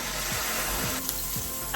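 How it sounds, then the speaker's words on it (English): Steady close sizzling of fish fillets frying skin side down in a hot pan, a continuous crackling hiss with no voices. "I'm gonna put the fillets on the pan, skin side down. Love that sizzle."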